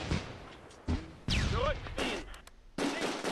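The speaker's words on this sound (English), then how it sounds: "the allies are shooting our reserves in the back as they're running away" Bursts of gunfire in the war game Close Combat II come in several separate loud cracks and volleys, each followed by a decaying tail, with quieter gaps between the bursts.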